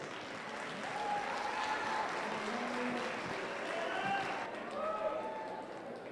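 A crowd claps steadily for several seconds at a youth fair commercial heifer show, the Polk County Youth Fair, with a faint murmur of voices under the dense applause.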